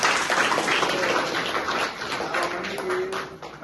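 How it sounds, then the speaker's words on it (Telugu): Audience applause at a news club gathering, a dense wash of clapping from a crowd that holds steady, then thins slightly toward the end, with a faint tone underneath. "ఆయన కూడా ఒకసారి చప్పట్లు కొట్టండి."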